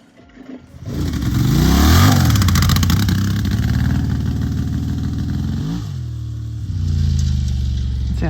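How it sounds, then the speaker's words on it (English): A Honda Transalp 750 motorcycle at wide-open throttle off-road with traction control active, the engine note surging and stuttering as ignition cuts each time the rear wheel spins, loud and close with jagged rising pitch sweeps. "I'm going to open the throttle wide open."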